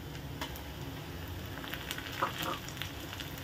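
Onion and tomatoes sauté in a pan for street-style egg bhurji, giving a steady low frying sizzle with faint scattered stirring clicks and no voices.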